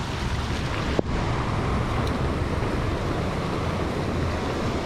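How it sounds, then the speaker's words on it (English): Rushing river water flows steadily after a storm, forming a dense, loud, continuous wash with a single sharp knock near the start and no voices. "There's a river formed by the storm."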